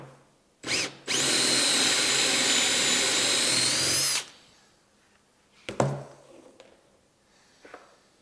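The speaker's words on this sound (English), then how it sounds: "Drill the recess for the head of the bolt." A power drill whines steadily for about three seconds as it bores a bolt-head recess into wood, preceded by a short start and followed by a few clunks and handling noises.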